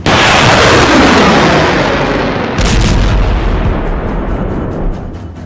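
Heavy weapons fire along the Israel-Lebanon border, with anti-tank missiles being launched; a loud, sustained roar of blasts and rumbling fills the scene, swelling again with a fresh burst midway and tapering slightly toward the end, with no voices.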